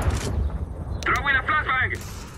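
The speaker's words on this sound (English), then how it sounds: "Grenade out!" Rumbling gunfire and a grenade blast in the CS:GO video game, a broadband burst up front and steady low battle noise throughout, with a shouted voice callout briefly over the middle.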